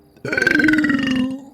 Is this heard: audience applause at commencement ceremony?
no